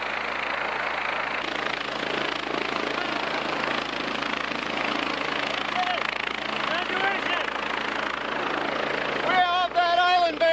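Helicopter on an Antarctic island expedition, a steady loud rotor and engine roar throughout, with a voice speaking near the end.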